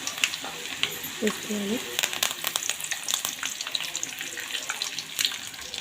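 Nuts and curry leaves frying in oil in a pan for lemon rice, a bright crackling sizzle with sharp spitting pops throughout, a short spoken phrase over it.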